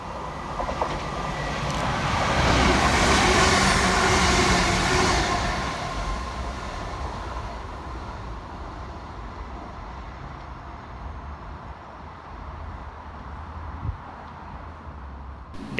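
A Northern class 323 electric train races at speed through Broad Green station in Liverpool, its loud rushing roar building over the first few seconds and then easing into a steady rumble of wheels on track, with no one talking.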